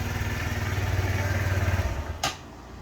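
A 2017 Kawasaki Z125 Pro single-cylinder motorcycle engine idles with a steady low thumping pulse, close and fairly loud, then cuts off abruptly into quiet near the end.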